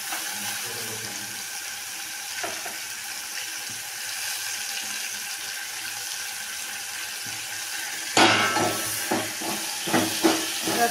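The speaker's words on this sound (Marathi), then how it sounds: "मिक्स करून घ्यायचं सगळं, मिक्स करायचं।" A steady hiss from a cooking pot gives way to loud scraping and clattering as drumstick pods and soaked dal are stirred into a thin dal amti curry, no voices.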